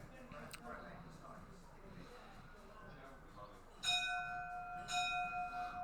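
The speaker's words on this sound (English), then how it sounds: "If anyone heard that in the background, that was the bell for last orders." A bar bell rings for last orders at a mixed pairs pool knockout final, two bright struck rings with long sustained tones rising above a murmuring crowd and nearby talk in the background.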